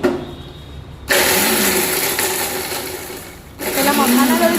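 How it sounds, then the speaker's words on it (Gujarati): A mixer grinder whirs loudly in two bursts as it grinds makhana (fox nuts), a close, high-pitched motor roar that starts abruptly, dips slightly, pauses for a moment and then surges again. "પહેલા મખાના દળી દઉં, પછી તલ દળી દઉં"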